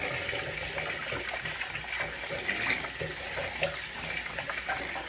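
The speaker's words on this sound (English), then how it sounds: "Now wash your hands." Steady tap water runs into a sink as a small child washes hands, a continuous even splash heard close and alone.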